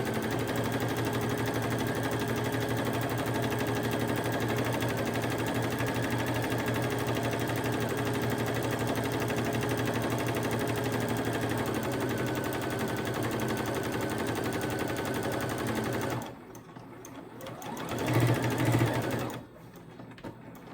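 A sewing machine stitches along the edge of a cloth jar bonnet, a fast, steady mechanical chatter that runs continuously and close, then stops briefly and gives way to softer handling noises.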